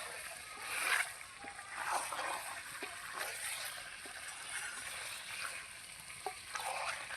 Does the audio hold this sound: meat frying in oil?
yes